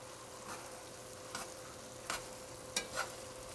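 Pasta being tossed with olive oil makes soft, wet stirring and sizzling sounds with a few brief, distinct scrapes and clatters spaced irregularly, close and fairly quiet.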